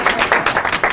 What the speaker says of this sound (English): That was a good practice applause.